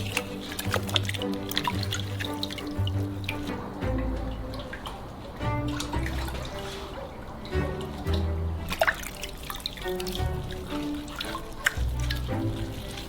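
Heated whey bubbles and drips in a pot during homemade mozzarella making, with soft, irregular liquid plops and trickles, fairly quiet and close.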